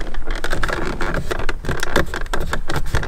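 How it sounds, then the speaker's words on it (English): Close, continuous crackling and rattling clicks from the plastic interior door handles of a BMW 335i (F30) as a door is pulled closed, dense and irregular, with no speech. "all the door handles here have these little crackling noises, especially when you go to like pull the door closed"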